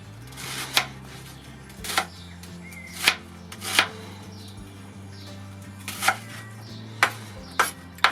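Knife chopping onions on a board, a sparse series of crisp close taps at uneven intervals, about ten cuts, over a faint steady background hum.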